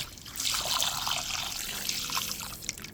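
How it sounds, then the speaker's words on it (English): Water trickles steadily over raw chicken being rinsed before Jamaican-style frying, a continuous close splashing stream that runs from start to finish with small spattering bursts and no talk. "I just pouring on some water on my chicken"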